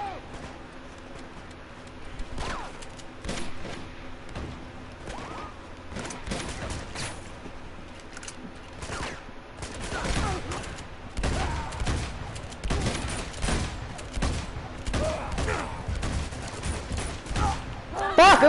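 Gunfire in the video game Uncharted 2: Among Thieves: repeated sharp shots and bursts of fire, scattered and growing denser toward the end, with a voice talking over parts of it.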